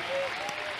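A church congregation claps in a steady, broad wash of applause that carries through the whole moment, with a crowd murmuring underneath.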